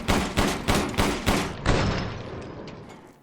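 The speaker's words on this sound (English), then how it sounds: "Because it's an automatic handgun, yeah, I should be able to hold the trigger down, and this does have a solid firing rate" Rapid automatic fire from an M1911 handgun in Resident Evil Village, five loud sharp shots in an even quick rhythm, then a decaying ringing tail and another shot starting at the very end.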